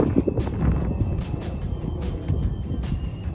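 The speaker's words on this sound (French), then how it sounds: "Il y a du vent." Wind gusts across a microphone in a park, producing a rumbling, buffeting roar with irregular bursts throughout and no speech.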